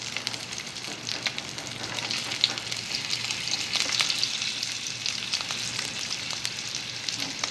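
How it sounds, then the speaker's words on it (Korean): Bones sizzle in a frying pan, the cut face pressed against the hot metal. A steady, fairly quiet crackling hiss continues with no talk over it. "그러면 닿는 면만 좀 지글지글 해주세요."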